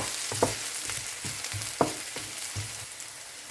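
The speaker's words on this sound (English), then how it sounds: "In a heated pan, put some drops of vegetable oil. Wait until warm, then sauté the garlic, onion, and spring onion at same time" Garlic, onion and spring onion sauté in a few drops of hot vegetable oil in a pan, giving a steady soft sizzle broken by regular scrapes and taps of a stirring utensil, heard up close with no voices.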